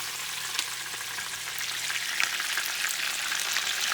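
Chicken drumsticks fry in a pan just after being flipped, a steady, dense sizzle of hot oil that holds even and close throughout, with faint crackles and pops rising slightly toward the end.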